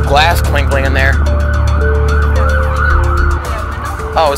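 A police siren wails from a distance outside an abandoned radio factory, its steady tones carrying for several seconds beneath scattered chirping and rustling, with a voice briefly heard near the start.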